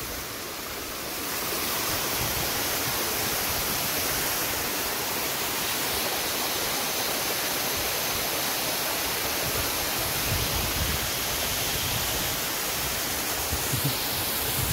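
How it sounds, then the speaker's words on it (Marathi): A waterfall pours down over a large rock with a constant, loud, broadband rushing roar. The sound holds steady and unbroken throughout, with no voices. "त्याच्यावरून खाली धबधबा वाहतोय"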